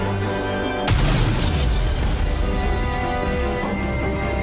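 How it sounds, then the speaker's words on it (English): A massive explosion in the video game Goddess of Victory: NIKKE hits suddenly and loudly after a steady background hum, then roars on as a dense, rumbling wash with no talking. "A massive explosion engulfs the area."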